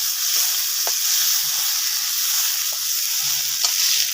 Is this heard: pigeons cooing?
no